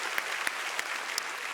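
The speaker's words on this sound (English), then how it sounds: "Sure, you can clap." Audience clapping, a brief burst of scattered claps from a seated crowd at a celebration, fairly soft and even.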